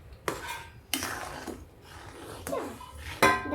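A large steel plate clanks and scrapes in a home kitchen while lemon pickle is being made, several separate metallic knocks and rattles at close range, with faint voices in the background.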